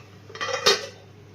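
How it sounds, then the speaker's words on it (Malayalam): A lid set onto a cooking pot of simmering curry, a short metallic clatter with a sharper clank as it settles, close and alone. "ഇനി നമുക്കതൊന്ന് മൂടി വെക്കാം."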